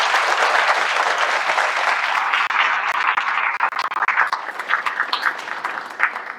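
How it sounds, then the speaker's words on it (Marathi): A crowd at a devotional talk about cows and Hanuman breaks into loud, sustained applause that fills the space, then thins into scattered claps toward the end. "एकदा गोमातेसाठी हनुमंतरासाठी जुळात टाळ्या झाल्या पाहिजे"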